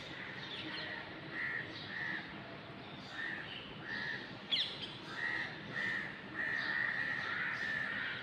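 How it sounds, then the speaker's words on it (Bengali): Crows caw repeatedly near a balcony garden of Malabar spinach, in a series of harsh, evenly spaced calls with one sharper squawk midway, steady and moderately close over faint outdoor ambience. "কাকগুলো কাক কাক করতে করতে যাইতেছে।"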